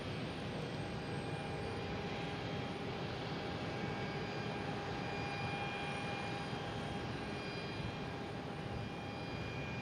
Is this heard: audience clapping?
no